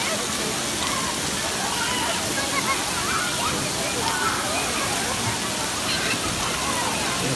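Water splashes and rushes steadily in a kids' play area at the Happy Island water park in Johannesburg. The sound is a dense, even wash with no clear breaks for the whole span.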